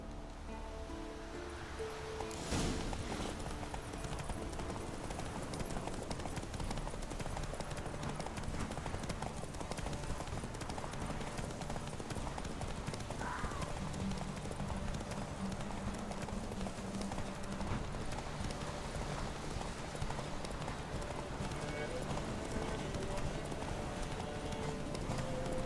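A horse gallops in The Witcher 3 video game, its hooves pounding a fast continuous clip-clop over outdoor ambience, steady and close throughout.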